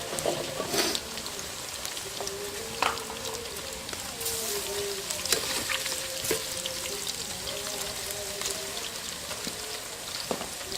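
Homemade potato french fries bubble and crackle steadily in hot oil, a dense, close sizzle with occasional sharper pops and faint clinks, and a soft voice drifts in beneath.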